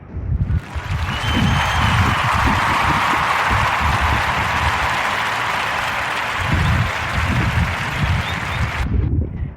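An audience gives a sustained round of applause for podcast guests Jamie Barnes and Greg Williams. The broad, even clapping lasts about eight seconds over a few low thumps, then cuts off abruptly.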